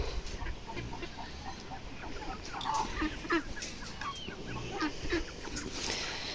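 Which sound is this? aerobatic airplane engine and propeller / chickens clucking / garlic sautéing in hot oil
chickens clucking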